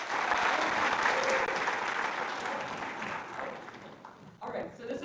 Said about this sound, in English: So clap it up for Daniela.